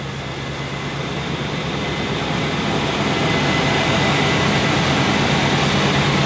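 A Cadillac Brougham engine idling after cranking, with the air conditioning blowing: a steady, loud, dense low rumble and broad airy roar that holds constant throughout, with no voices.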